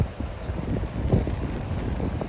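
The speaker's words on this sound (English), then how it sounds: "It's windy today." Wind at a beach buffeting the microphone in a continuous low rumble and roar, fairly loud and close, with no speech.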